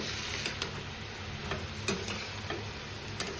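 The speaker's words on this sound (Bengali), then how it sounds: "খুব সুন্দর করে নেড়ে চেড়ে নেব।" Salted greens with turmeric being stirred in a frying pan, a steady sizzle with occasional faint scraping taps of the spoon, close and continuous, with no voices.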